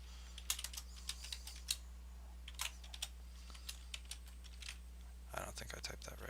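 Typing on a computer keyboard while setting up a new server, a run of sharp, separate keystroke clicks at an uneven pace, then a quick burst of rapid strokes near the end, all against a steady low electrical hum.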